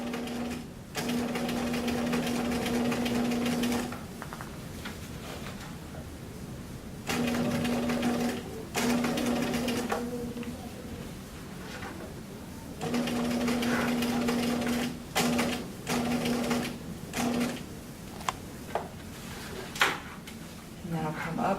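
A sewing machine topstitches a cuff in several bursts of fast, steady stitching with a humming buzz, broken by pauses filled with handling clicks and shuffles, close and clear while a person talks throughout.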